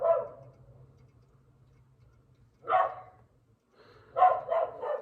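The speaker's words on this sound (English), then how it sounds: "Is that dog ever gonna shut up?" A dog barks in short harmonic bursts: one at the start, another near the middle, then a quick run of three or four barks, all against a low steady hum in a quiet room.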